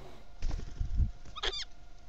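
A brief burst of harsh, chattering plush-crested jay calls rises over low background rumble and handling noise, fairly close but short-lived.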